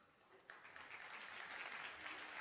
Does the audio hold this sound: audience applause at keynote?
yes